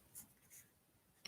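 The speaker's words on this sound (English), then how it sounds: "I'm gonna write that down." Marker or chalk writing on a board during a maths lesson, a few very faint, brief scratchy strokes spaced apart, ending in a slightly sharper tap, quiet and alone.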